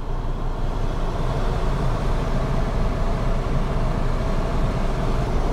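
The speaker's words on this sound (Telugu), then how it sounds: "AC ఫ్యాన్ స్పీడ్ పెంచుతున్నాను." A steady, loud rush of blowing air from a Maruti Suzuki car's AC fan at high speed fills the space with an even, continuous whoosh and no pauses or voices.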